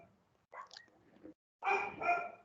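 A dog barks downstairs, two short, muffled bursts heard faintly from a distance, with near silence in between.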